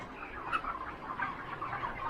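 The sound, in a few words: poultry chickens in a farm shed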